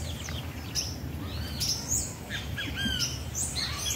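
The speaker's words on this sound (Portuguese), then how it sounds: "Os passarinhos aqui é assim, cantando." Small birds sing on a farm in Brazil, with repeated bright chirps, whistles and squawks scattered across the clip over a steady rural background, near and clear with no talking.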